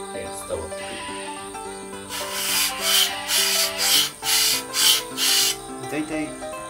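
A dull machete and sickle are ground on a whetstone, with repeated rasping strokes in a steady back-and-forth rhythm, close and moderately loud, over faint background sound.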